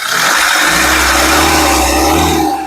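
A 2015 Mahindra XUV 500 W8 diesel engine is revved hard up close, a loud sustained roar that swells and then eases slightly, with no talk.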